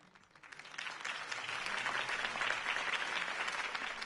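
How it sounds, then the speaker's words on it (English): Crowd applause rising and holding steady after a campaign speech in a Batman video game, a dense wash of clapping that swells in the first half second and stays full and even to the end. "If only Mr. Wayne, my campaign's largest backer, could have heard that applause"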